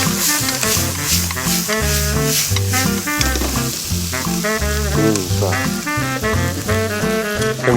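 Garlic sizzles in a pan for stir-fried mussel udon, a steady hissing fry that runs under loud background music, with one short spoken word.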